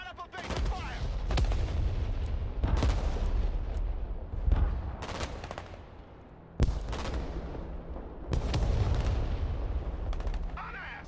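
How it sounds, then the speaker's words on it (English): Artillery fire in the war game Broken Arrow, a US versus Russia battle, comes as repeated heavy booming shots at irregular intervals over a rumbling backdrop, loud and close, with occasional sharper cracks. "because the artillery is actively hunting them"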